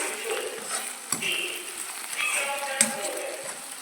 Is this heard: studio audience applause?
no